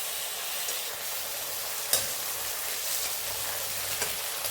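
Tomato frying in a pan for a fish curry, a continuous soft sizzle with an occasional stirring clink, close and alone without talk.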